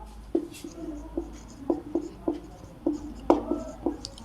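Pen strokes on paper while writing out a maths solution, a series of short scratchy marks in irregular rhythm, close and fairly clear, with faint background hum.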